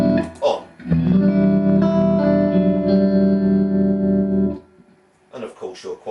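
Electric guitar played through a Romany TR20 amp with the tremolo set near maximum depth, a sustained chord pulsing steadily for several seconds before cutting off, followed by a few brief plucked notes.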